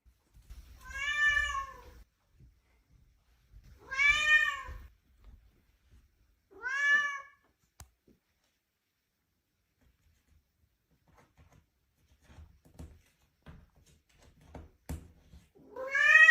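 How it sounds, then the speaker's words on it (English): Cat meowing loudly and close, four drawn-out meows spaced a few seconds apart, with quiet gaps and faint background noises between them. "Cat."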